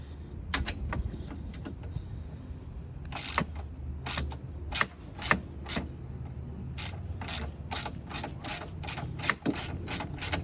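Ratchet clicking as an 8 mm bolt comes off near the transmission control module of a 2012–2018 Ford Focus, bursts of sharp, rapid pawl clicks in several runs, close and clear with no talking.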